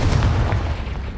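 A Confringo blasting spell goes off in Hogwarts Legacy, a loud, deep explosive boom with a low rumbling body that holds steady for just over a second, with no voice over it.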